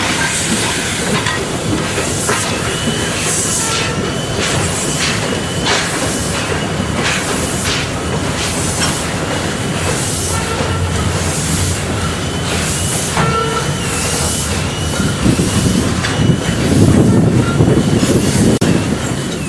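Heavy industrial rail scene at a steelworks blast furnace, where new GK1C diesel locomotives haul torpedo ladle wagons; a steady loud rumble with hissing and clanking wagon noise throughout, swelling slightly toward the end.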